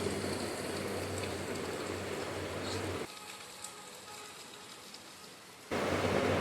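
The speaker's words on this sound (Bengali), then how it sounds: "বাইরে প্রচুর বৃষ্টি হচ্ছে" Heavy rain pours outdoors onto a garden of flooded flower plants, a dense, steady hiss that briefly drops quieter midway before surging back to full strength.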